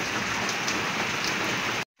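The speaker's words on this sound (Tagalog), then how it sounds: "Humihina na po yung ulan." Steady rain falls, with a dense even hiss of drops on surfaces, close and continuous, on a laundry day in the Philippines, then cutting off abruptly near the end.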